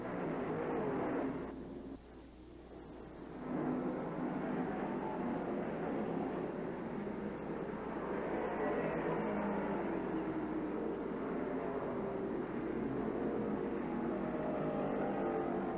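Stock cars racing at Nashville, Tennessee in the 1970 Nashville 420, a steady blended roar of engines droning on with little break, moderately loud and heard from a distance.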